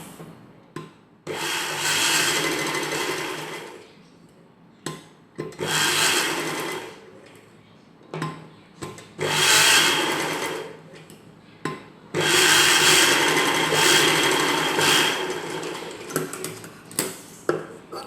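A sewing machine stitches a buckram piece onto a dress in several bursts of rapid mechanical whirring, each lasting a second or a few seconds, separated by short pauses and small handling clicks.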